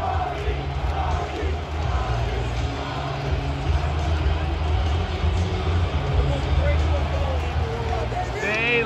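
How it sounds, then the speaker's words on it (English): Arena crowd at a Florida Panthers playoff hockey game against Edmonton chanting for goalie Sergei Bobrovsky, a dense, sustained roar of many voices filling the space with steady loudness throughout. "the whole crowd is chanting your name"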